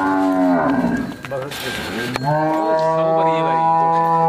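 Cow at a livestock sale in Sialkot gives a loud, drawn-out moo lasting several seconds, close by, with harmonic lowing continuing over faint background voices.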